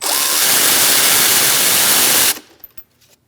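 A 10mm socket on a power tool removing the positive battery terminal nut on a 2000-2006 Mini Cooper 1.6L, with a loud, close, continuous whir for about two seconds that cuts off abruptly, followed by a few faint clinks.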